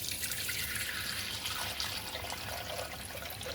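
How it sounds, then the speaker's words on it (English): Tap water runs steadily into a Thermomix bowl for washing, a continuous close hiss and splash with faint trickling and no voices. "You fill the water until it covers the blade."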